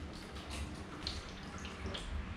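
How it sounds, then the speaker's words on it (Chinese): Cold water runs from a kitchen tap to wash green vegetables, a soft, steady splashing stream heard quietly for a couple of seconds. "这时候我们就可以用冷水来清洗我们需要的东西"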